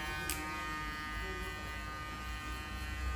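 An electric hair clipper fitted with a medium guard buzzes steadily and close up while trimming a man's hair in a barbershop, a continuous hum with no talk over it.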